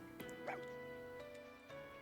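A dog in the Fire Emblem Engage video game gives a quick yip or bark over soft, steady game background music, short and fairly quiet.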